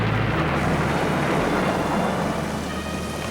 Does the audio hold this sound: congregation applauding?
no